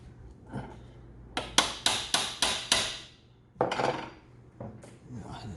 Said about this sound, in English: I'm going to tap it there with a hammer so I can get that lined up